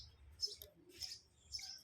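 A sparrow chirps at a Bahucharaji Mata temple, giving three short, faint, high chirps spaced about half a second apart over a quiet low background hum.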